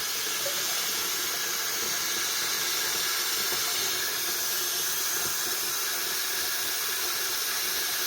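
A steady, even hiss of boiling water and steam as jars of preserves boil in a pot, constant and unbroken, with no voices.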